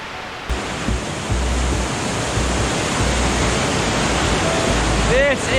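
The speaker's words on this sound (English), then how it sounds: "you can look at waterfalls just powerful and flowing" Powerful waterfall in Mindanao, Philippines, roaring steadily as a loud, dense, continuous rush of falling water close by, with no talking over it.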